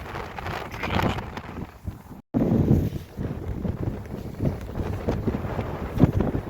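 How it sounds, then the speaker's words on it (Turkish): Strong wind blows outdoors in Baku, Azerbaijan, on a cold day and buffets the microphone with loud, gusty rumbling that rises and falls. It cuts out for a brief moment partway through. "Ve aşırı rüzgar var."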